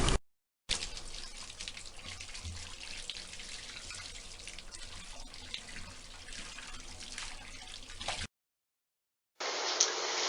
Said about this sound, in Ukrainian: По закінченні відведеного часу змиваємо суміш з волосся просто водою, без шампуню.